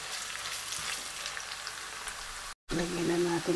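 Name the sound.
ginger frying in a pan with seafood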